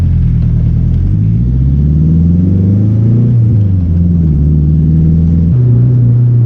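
A turbocharged Honda Civic with a K24 engine revs hard as VTEC engages, a loud, close engine drone that climbs steadily in pitch and drops briefly at each shift, with no talk.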